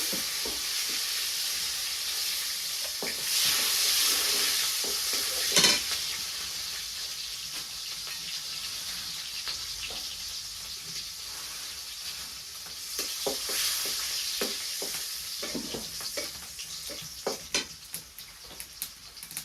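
Chopped onions sizzle and fry in a pan in a village kitchen, stirred now and then with sharp scraping strokes, a steady close hiss running throughout with no talking.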